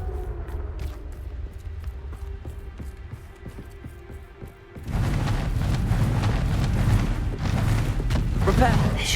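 Confringo fire spell from Hogwarts Legacy going off in combat, heard as a sudden loud blast that turns into a dense, roaring burst after a stretch of quieter clatter and faint tones.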